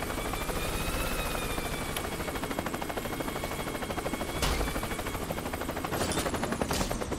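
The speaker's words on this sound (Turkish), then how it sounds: "Helikopter çok mükemmel bir lüks bu arada" A helicopter in the Worms W.M.D video game drones with a loud, continuous rotor chop, rapid and even throughout, with a couple of sharp impacts cutting in and no talk over it.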